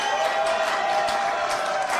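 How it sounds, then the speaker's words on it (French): Studio audience applause on a French television talk show set, a steady dense wash of clapping and crowd noise filling the short stretch without pause. "Applaudissements."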